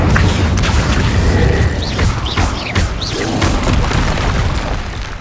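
Incendio fire spell cast in Hogwarts Legacy, a loud continuous booming roar of flame and rumble with whooshing magical swirls, close and sustained throughout.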